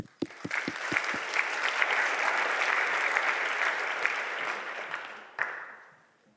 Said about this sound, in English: So please join me in giving a warm applause for Sergio.